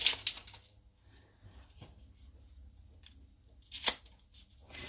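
Papery onion skin peeled off by hand close up, with a few sharp crackling tears at the start and another near the end, and quiet rustling between them.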